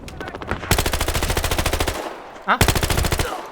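Rapid bursts of automatic gunfire in a Battlefield video game rattle out in two long volleys separated by a brief pause, loud and close, with game-style sound effects.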